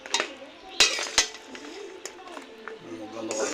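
Long khurma sweets being stirred in cooled sugar syrup, with a few sharp utensil clinks against the pot and soft scraping and mixing, close by, with a voice speaking over parts of it.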